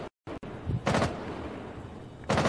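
Gunfire in Rainbow Six Siege arrives as short, close bursts of rapid shots after a brief dropout, with a second burst at the end and no talk over it.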